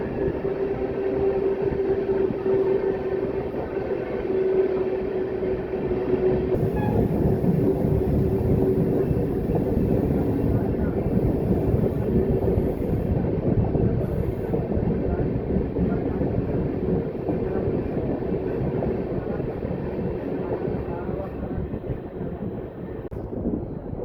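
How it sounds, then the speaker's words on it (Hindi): A long Indian Railways passenger express train, a loud continuous rolling rumble with wheel clatter over the rails and gusts of wind on the microphone throughout. "ट्रेन देख लो, पूरी लंबी ट्रेन है।"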